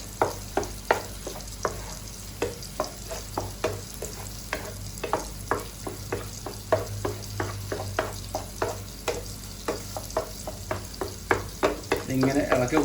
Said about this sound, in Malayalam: മുട്ട അങ്ങ് ചേർത്ത് കൊടുത്തിട്ട് നമ്മളിത് ഇളക്കി കൊടുക്കണം.